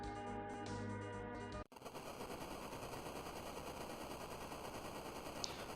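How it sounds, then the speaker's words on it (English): Red Wings airships bombing Damcyan Castle in Final Fantasy IV, a sudden cut from a tonal passage into a dense, continuous rattling barrage that runs on steadily at moderate level. "So the Red Wings are bombing the Damcyan Castle."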